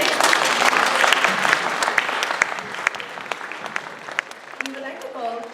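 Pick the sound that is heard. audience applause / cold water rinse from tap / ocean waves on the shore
audience applause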